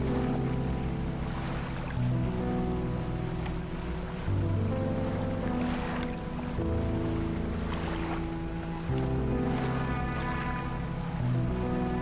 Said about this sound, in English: We are going a little faster, which is nice. The new motor is kicking in.